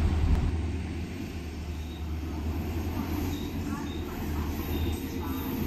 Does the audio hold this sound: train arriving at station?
yes